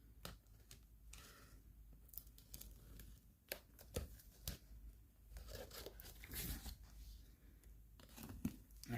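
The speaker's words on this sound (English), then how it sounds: "tape cut open." A razor blade slices through packing tape on a shipping package, producing quiet close tearing, crinkling and scraping sounds in short bursts with small clicks, faint and without speech.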